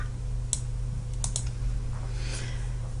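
Sparse keystrokes on a computer keyboard, a few quick clicks and a final key press for enter, heard faintly over a steady low background hum.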